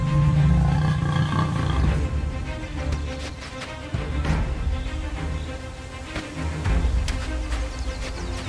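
A pride of lionesses roars and snarls while attacking giraffes on the African savanna, a dense, loud, continuous rumble of growls and roars with sharp bursts throughout.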